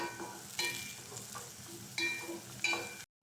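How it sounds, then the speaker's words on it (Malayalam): Onions with chopped green chilli, ginger and curry leaves frying in a pan for Malabar kozhiyada filling, a quiet sizzle marked by a few brisk stirring scrapes and clinks before it stops abruptly. "ഇനി ഉള്ളി ഒന്ന് നന്നായിട്ടൊന്ന് മിക്സ് ചെയ്ത് കൊടുക്കുന്നുണ്ട്."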